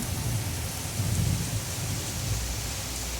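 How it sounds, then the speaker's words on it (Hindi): Thunder rolls in low rumbling swells behind a steady wash of rain falling on surfaces during a storm from Hurricane Debby, with no voices. "पीछे बादल कितने गरज रहे हैं।"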